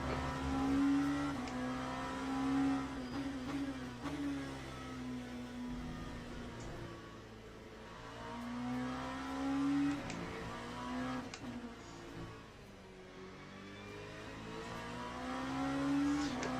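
An LMP2 prototype race car engine at Spa in the video game Le Mans Ultimate drones steadily and rises and falls in pitch through gear changes. It is loud and continuous with no talk.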